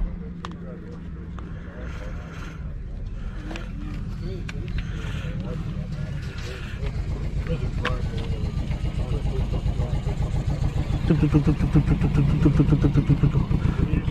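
A 1962 Daimler SP250 with a 140-horsepower engine and four-speed manual idles with a lumpy, uneven beat that resembles misfiring. Close and steady, it grows slightly louder toward the end while people talk over it.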